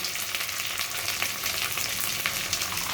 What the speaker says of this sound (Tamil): இது பொரிஞ்ச உடனே வெங்காயத்தை போட்டுடலாம் சின்ன வெங்காயம்